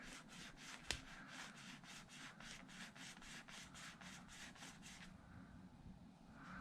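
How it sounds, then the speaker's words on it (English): Steel wool scrubs rust from a metal part of a Traxxas XRT RC truck in steady back-and-forth strokes, about fourteen rhythmic rubs over five seconds with one sharp tap early on, close and moderately loud, then stopping. "I'm going to get this surface area steel wooled to get the rust off of it"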